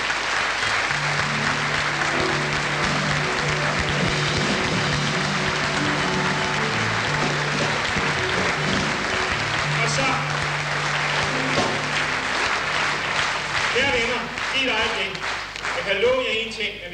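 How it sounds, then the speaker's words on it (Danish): Sustained applause from a revue audience at the 1981 SAS revue, a steady wash of clapping that runs throughout, with someone speaking over it and a steady musical tone underneath. "hvis I bruger begge hænder, når I klapper, så lyder det meget bedre"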